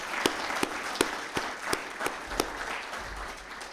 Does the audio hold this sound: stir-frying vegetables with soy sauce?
no